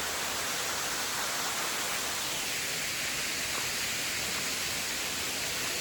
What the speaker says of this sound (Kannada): ಗೈಸ್ ಇಲ್ಲಿ ನಮ್ಮ ಒಂದು ವಾಟರ್ ಫಾಲ್ಸ್ ಬರ್ತದ ತುಲೆ ಗೈಸ್